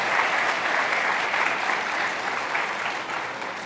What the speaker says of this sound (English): So a big round of applause for Lizette.